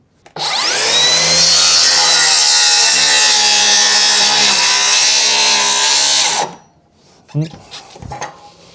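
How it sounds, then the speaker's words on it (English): A power saw cuts the rotting wooden bottoms off a piece, giving a loud, close, steady high whine that runs for about six seconds before stopping abruptly, followed by a few clunks and knocks. "I'm just gonna cut the rotting bottoms off of this and then think it over later."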